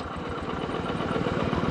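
A Honda SP 125 fuel-injected motorcycle during a start attempt gives a steady, close, low rhythmic engine chug that holds for the whole moment without any break.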